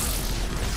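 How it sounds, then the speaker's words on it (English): Grenade blasts in the video game Mass Effect 3: a dense, continuous low rumbling boom fills the whole brief moment, loud and close, with no clear separate bursts. "Grenades."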